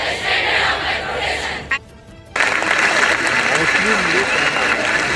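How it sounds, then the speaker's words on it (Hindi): An audience applauds a colleague at a nursing lamp-lighting oath ceremony, steady dense clapping that cuts out briefly, then resumes loud and sustained, with a voice talking over it. "कितना अच्छा लगता है जब हम अपने साथी के लिए ताली बजाते हैं"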